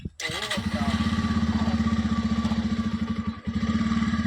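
A motorcycle engine catches and settles into a fast, even idle, its close, regular thumping pulse running steadily for several seconds with a short dip near the end.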